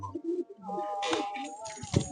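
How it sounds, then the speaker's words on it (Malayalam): A Kalyani pigeon coos in a loft: soft, low, rolling calls come close by and fairly quiet, mixed with a few faint bird sounds and brief rustles. "ഒറിജിനൽ കല്യാണി പ്രാവ്"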